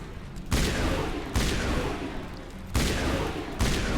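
Bursts of gunfire in the Mass Effect video game, four loud, sharp volleys spaced about a second apart, each trailing into a rumbling echo, heard up close without talk.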